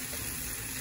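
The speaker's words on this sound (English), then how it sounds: "I'm gonna cook it for about another 2 to 3 minutes where the calabaza is cooked" Calabaza squash and corn sizzling in a pan, a steady, even frying hiss throughout the short stretch with no talking.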